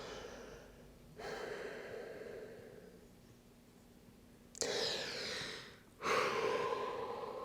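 Deep, close breaths during a vinyasa yoga flow: a long inhale, then two sharper, louder breaths in quick succession, each airy and audible in an otherwise quiet room.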